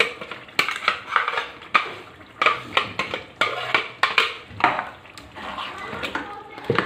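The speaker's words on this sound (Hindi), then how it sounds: "अब इस पालक को हम गोश्त के साथ भूनेंगे" Spinach and mutton are stirred and scraped in a frying pot with a utensil, repeated clacks and sizzling crackle in an uneven rhythm, close up.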